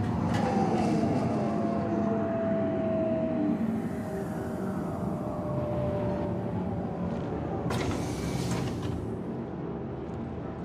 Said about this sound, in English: Tram now leaving the station.